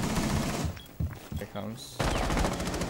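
Close, loud automatic gunfire from Rainbow Six Siege rattles in rapid bursts, breaks off briefly while a voice speaks, then resumes in a dense sustained volley.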